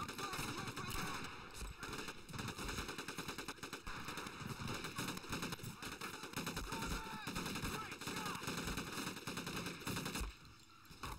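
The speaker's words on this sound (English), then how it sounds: "I might have just shot my own guy there" Gunfire in a shooter video game comes in dense, continuous bursts of rapid shots almost the whole way through and drops off near the end, with a voice faintly underneath.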